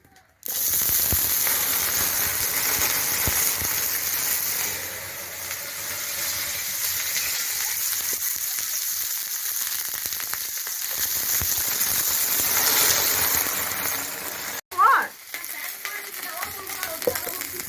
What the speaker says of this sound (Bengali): তাওয়ার মধ্যে একটু তেল দিয়ে দেবো, দিয়ে এখানে বেগুন আর আলু ধুয়ে রেখেছি, এটা দিয়ে দেবো। তেলটা গরম হয়ে গেছে।